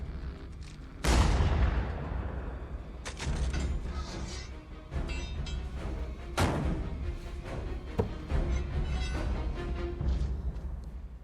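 Gunfire and heavy booms from an action scene in the movie Furious 7, a loud blast opening the stretch followed by repeated sharp shots and impacts over a dense, rumbling soundtrack.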